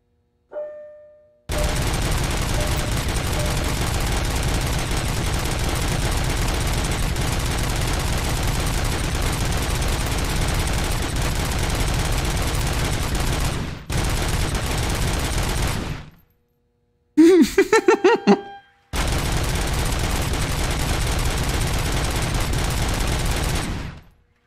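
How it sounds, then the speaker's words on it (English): New gun firing in Robocop: Rogue City, long sustained loud bursts of rapid gunfire with brief breaks between them, close and dominant, no talk. "Now let's see if my new gun works here."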